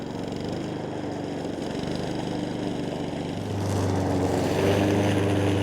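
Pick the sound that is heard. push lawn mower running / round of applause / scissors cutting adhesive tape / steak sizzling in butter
push lawn mower running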